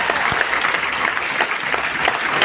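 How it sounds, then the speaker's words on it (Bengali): An audience at a meeting in a party centre claps loudly, dense continuous applause holding at an even level for the whole stretch, with no talking over it. "জোরে একটা হাততালি চাই।"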